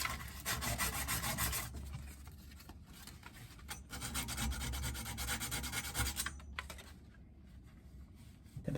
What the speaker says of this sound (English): gently clean with some emery cloth or fine grit sandpaper the outside of the copper pipe